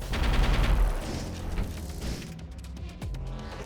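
Bombs strike an enemy ship in the space game Void War as a dense rumbling barrage that is loud at first, then fades into lighter scattered thuds and crackles.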